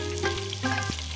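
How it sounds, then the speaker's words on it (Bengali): Pangas (pangasius) fish pieces frying in oil in a pan, a steady sizzle with a low hum beneath and a couple of soft clicks of the pieces shifting, close and alone. "মাছের এক সাইড ভাজা হয়ে গেছে, এবার অপর সাইডটা ঠিক ওইভাবে একই রকম ভাবে উল্টে ভেজে নেব"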